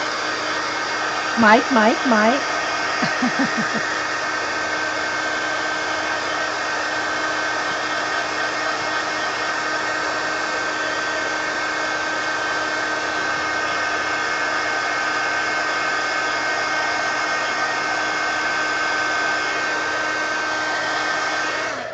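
A hair dryer blows steadily on paint splatters in an art journal, a continuous loud whir that runs for the whole stretch, with a brief voice near the start.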